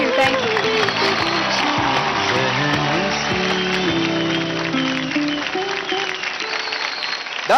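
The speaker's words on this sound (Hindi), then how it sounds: "जोरदार तालियां हो जाए" Audience applause and cheering fill a dance competition show stage, loud and continuous for the whole stretch, with music playing underneath.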